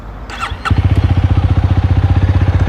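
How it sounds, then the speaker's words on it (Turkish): A Honda CL250 Scrambler motorcycle engine cranks briefly, then catches and settles into a loud, steady, throbbing idle up close. "Sesini de dinletmek istiyorum. Şöyle çalıştıralım."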